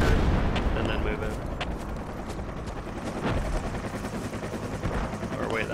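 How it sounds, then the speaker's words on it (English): Mortar rounds and gunfire in the jungle in the military shooter Project Reality make continuous dense rumbling, with thumping impacts and crackling shots over a loud, steady bed of battle noise. "that sounds like mortars"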